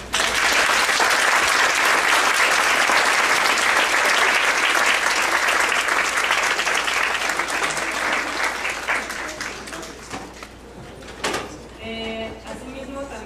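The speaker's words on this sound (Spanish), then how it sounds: "Si le podemos dar un caluroso aplauso." An audience at an academic event gives warm applause to Doctor Julio as he receives a certificate, loud continuous clapping that tapers off near the end, followed by a few scattered claps and voices.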